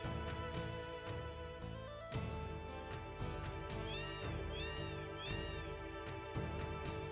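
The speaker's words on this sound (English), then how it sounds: "I mean, you can listen to the cats." Several cats in the Final Fantasy 7 video game meow repeatedly over a looping music track, with rising and falling calls clustered in the middle.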